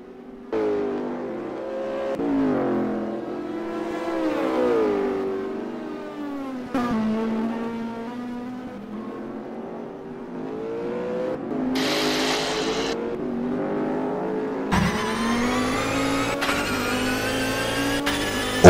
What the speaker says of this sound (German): Und Stefan Hauenstein fährt die schnellste Rennrunde.